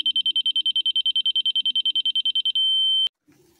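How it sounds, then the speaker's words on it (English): A rotary laser level beeps in a rapid, regular run of high electronic tones, then switches to one continuous steady tone that cuts off sharply, leaving quiet outdoor background. "we're gonna run this thing right until it starts beeping."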